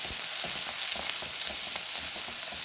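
Onions fry in hot oil with a constant, close sizzle and a crackling hiss. Soft stirring scrapes pulse through it, and no one speaks.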